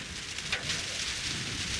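Steady rain falls during a baseball game, a constant close hiss of drops on a hard surface with one faint tap partway through and no voices.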